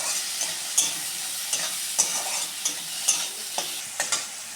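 A spatula scrapes and stirs fried onion and tomato in a sizzling pan, with steady frying hiss broken by regular stirring strokes about every half second, close and alone.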